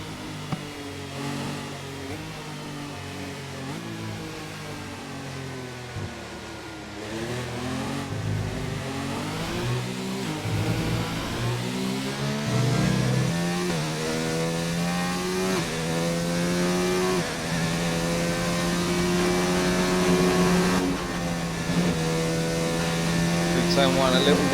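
Racing car engine in a racing game winding up hard through the gears, rising harmonic revs that climb, drop at shifts and climb again, loud and continuous under a commentator's voice.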